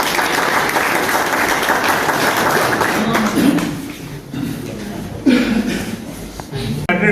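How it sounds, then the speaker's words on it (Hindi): Audience at a PTI party gathering in Andalusia, Spain, clapping loudly and steadily, the applause dipping partway through, then surging again, with a few chuckles in the room. "इनके लिए भरपूर तालियां।"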